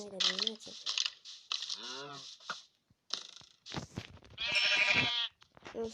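Sheep bleating in a video game while the player hunts for sheep, several wavering bleats at moderate loudness mixed with keyboard typing, alongside talk.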